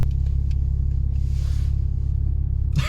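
A Porsche Cayman S 987 engine rumbles deeply in sport mode, steady and loud from inside the car, with a brief rev burst at the end.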